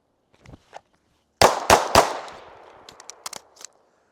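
Handgun shots at a shooting training drill: three sharp, loud reports in quick succession with a decaying echo, preceded and followed by fainter clicks and metallic handling noises.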